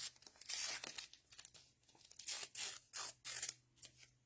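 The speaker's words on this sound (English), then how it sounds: "So I'm going to rip this one in half here." Paper torn by hand, ripped in half to make a rough-edged border for a stamped watercolor card; several quick tearing bursts with short pauses between, close and fairly quiet, with no talk.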